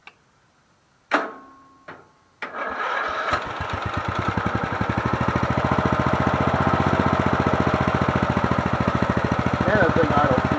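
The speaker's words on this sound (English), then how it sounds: "that thing idles smooth" A Murray Select 17.5hp riding mower with a 42-inch deck cranks with a few starter bursts, catches, and settles into a steady, rapid idle with a ticking rhythm, loud and close.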